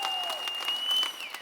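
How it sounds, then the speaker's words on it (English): An event audience clapping hands, a brief scattered round of applause heard at a distance with a faint whistle-like tone over it. "If you are interested in, people, just clap your hands"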